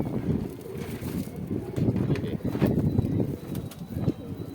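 Two young pigeons from a breeding pair of Saharanpur high-flying pigeons give low, soft cooing notes close by, partly masked by gusty wind noise buffeting the microphone.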